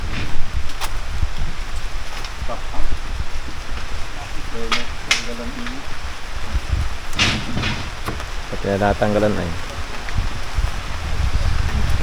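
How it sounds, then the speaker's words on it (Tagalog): Heavy rain falls outdoors in a late-afternoon downpour near a fiberglass boat under repair, a steady broadband wash with occasional knocks, and people talking intermittently over it. "Wala, lakas na ng ulan."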